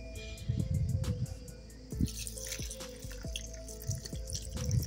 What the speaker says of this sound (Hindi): अब हम इसमें देंगे पानी।